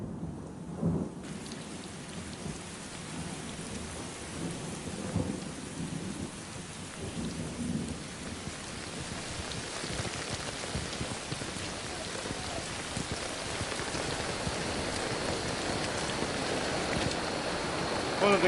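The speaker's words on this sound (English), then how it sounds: "when they came into the mountains here, it just rained and rained." Heavy rain pours through a thunderstorm in the mountains of Mexico, a dense, constant hiss of falling water broken by deep rolling thunder that swells louder toward the end.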